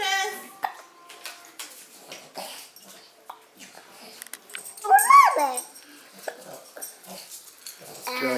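Puppies at a festive holiday gathering give a brief, high whimpering yip that stands out amid scattered household clatter and people talking nearby.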